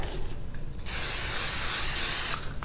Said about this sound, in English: I'm just going to spray a light layer on top.